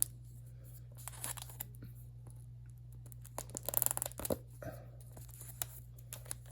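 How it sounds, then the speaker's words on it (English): A small cutting tool slicing through the plastic wrap on an iPhone 12 Pro Max box, with close crinkling, tearing and scratchy bursts that cluster into a louder flurry midway, no talking. "So I got this little tool so I can kind of cut through this plastic."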